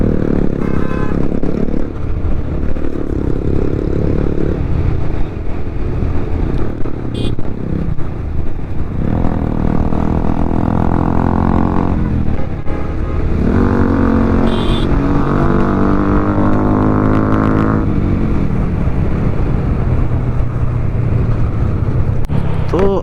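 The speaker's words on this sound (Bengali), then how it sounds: "ওর এক্সস্ট লাগানো আছে, মাথা নষ্ট এক্সস্ট" A motorcycle fitted with a loud aftermarket exhaust rides along the Chattogram–Kaptai road, its engine droning steadily and close, rising and falling in pitch with throttle changes, under steady wind rush.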